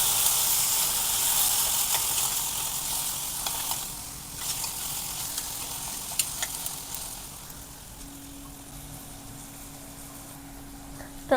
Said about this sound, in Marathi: कांदा हलकासा परतला की त्यामध्ये बारीक चिरलेला टोमॅटो घालून घ्यायचा आहे।